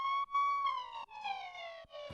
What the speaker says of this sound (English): we have a Siren actually